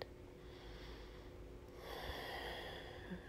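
A slow, deep breath out, soft and airy, swells in partway through a quiet neck-stretching session and carries on steadily to the end, close and gentle.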